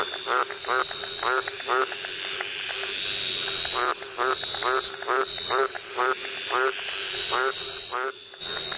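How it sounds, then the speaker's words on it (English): Many rain frogs call at once in a dense chorus, one type repeating short rapid trills in a steady pulsing rhythm over high constant chirping. "Listen to the frogs, they're just everywhere. They're going off."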